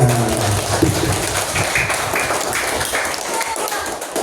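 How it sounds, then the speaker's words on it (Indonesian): A class of schoolchildren claps for everyone after singing a song together, a busy patter of hand claps and taps that follows a brief voice and continues through to the end. "tepuk tangan untuk kita semua"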